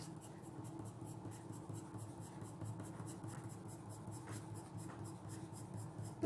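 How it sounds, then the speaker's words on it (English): A 6B graphite pencil makes light shading strokes on paper in a soft, continuous scratchy rub. "I am not using pencil forcefully. I am using strokes with the light hand."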